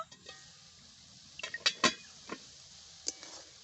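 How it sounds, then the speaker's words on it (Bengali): A lid comes off a pot of carrot halwa with a few sharp metallic clinks and scrapes, close by, set against a quiet kitchen background. "এখন চাপা খুলে দেব"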